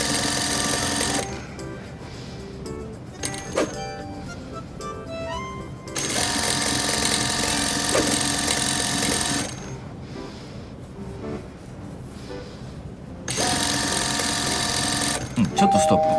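A foot-operated sewing machine runs a straight stitch in long loud whirring bursts, separated by quieter pauses where people talk nearby.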